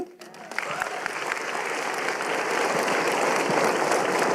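Graduating scholars at a winter graduation ceremony break into applause, starting after a brief pause and building to sustained, dense clapping from a large group.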